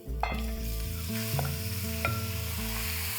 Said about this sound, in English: I'm going to sear the meat for 3 to 4 minutes on a high flame